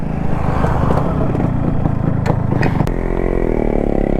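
A motorcycle engine running close by during a night ride through a forest area with deer, a loud steady rumble that drops to a lower idle near the end.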